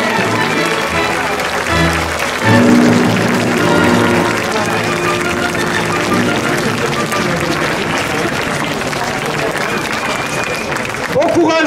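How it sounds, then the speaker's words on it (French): A crowd at an outdoor rally for an undocumented migrant applauds in a steady, dense wash of clapping that lasts throughout, with voices mixed in and a brief louder swell near the start. "Nous vous demandons une salve d'applaudissements pour Drita et sa famille."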